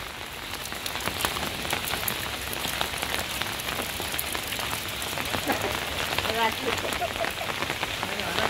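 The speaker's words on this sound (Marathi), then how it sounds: "संतप्त असा पाऊस पडताना" Heavy rain pours steadily over an open ground in the Konkan region, a dense, constant hiss of drops hitting the surface that stays even throughout.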